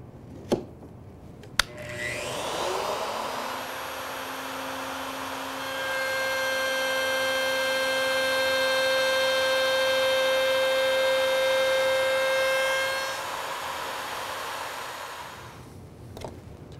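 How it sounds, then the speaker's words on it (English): Wood router cutting smooth radius edges on a workpiece held in a jig: a sharp click, then the motor spins up to a steady high whine, rises louder while cutting, and winds down near the end. "We simply use our router to cut them smooth."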